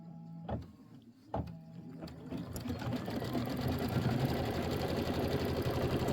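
A sewing machine quilts the border of a fabric bench pillow. A couple of short starts are followed by a steady, fast stitching whir that runs on, close and fairly quiet.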